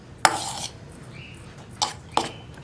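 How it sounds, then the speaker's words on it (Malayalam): A spoon clinks and scrapes against a pot while semolina is mixed with lukewarm water, giving one longer clatter and then two short knocks over a quiet background. "ഇളം ചൂടുവെള്ളം ഒഴിച്ചു കൊടുക്കുക."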